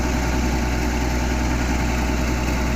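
A vehicle engine runs steadily and loudly close by as the driver sets off, a constant droning rumble with no talk.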